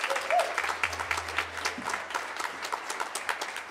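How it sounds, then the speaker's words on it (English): An audience claps steadily at a high school winter jazz concert in 2022, dense applause filling the room and continuing throughout, with faint voices underneath. "while you're clapping, we should clap as well for our tuba player back here"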